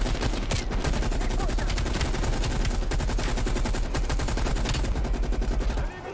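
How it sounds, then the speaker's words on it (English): Sustained rapid automatic gunfire from a Call of Duty Black Ops Cold War campaign battle, dense and loud throughout with overlapping bursts, cutting off abruptly near the end. "How are you guys still shooting and I'm not?"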